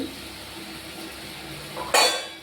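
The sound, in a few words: spice paste being stirred and fried in a pan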